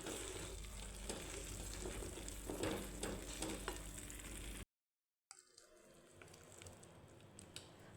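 Dry fruits are tossed into Karachi halwa in a pan and stirred, giving a steady close sizzle with scraping and stirring, a brief cut to silence, then quieter frying.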